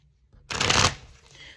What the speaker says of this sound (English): Let me shuffle because the cards are sticking.